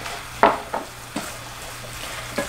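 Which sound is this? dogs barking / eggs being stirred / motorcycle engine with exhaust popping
eggs being stirred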